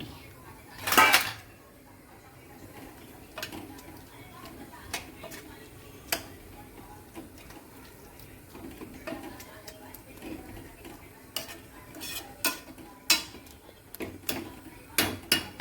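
Pieces of millet flatbread (rotlo) dropped into a simmering pot and stirred, giving a burst of clatter up front, then scattered light clinks and scrapes of a utensil against the metal pot.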